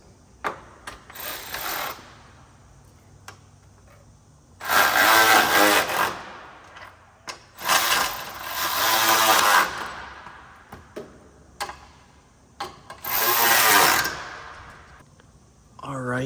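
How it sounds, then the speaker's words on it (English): Bolts are tightened down on a Ford F-250/F-350/F-450 truck with a power tool, which runs in four or five loud, whirring bursts of a second or two, separated by quieter clicks and pauses. "Let's go ahead and tighten them down to see what our clearance is."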